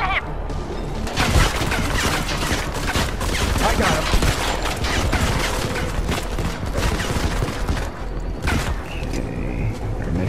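Rapid gunfire bursts and crashing impacts from a firefight in the mobile shooter Modern Combat 5: Blackout fill the scene continuously, loud and dense, with brief speech from the game.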